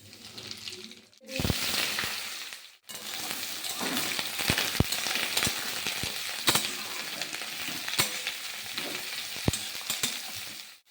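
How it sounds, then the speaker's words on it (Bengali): Eggplant frying in oil with nigella seeds in a hot kadai, a steady sizzle broken by repeated sharp clinks of stirring, with a short pause near the start. "বেগুন ভাজাটা প্রায় হয়ে এসছে"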